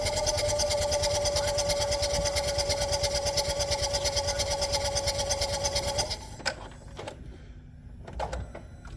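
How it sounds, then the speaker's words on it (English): A Smart Fortwo 451 coupe micro-hybrid with a 1.0-litre engine and a leaking head gasket is cranked by its starter alternator, giving a fast, even chugging rhythm for about six seconds before it cuts off, followed by a few faint knocks. "crank the engine with starter alternator."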